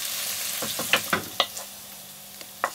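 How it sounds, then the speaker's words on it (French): Salmon is scraped from a hot frying pan into a bowl, with a soft sizzle underneath and a few sharp utensil taps and clinks scattered irregularly across a couple of seconds. "je passe le saumon qui est dans la poêle dans le bol"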